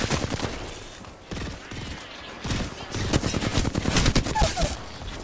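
Rapid video-game gunfire rattles in dense bursts through most of the span, loud and close, with brief pauses between volleys during an online shooter match.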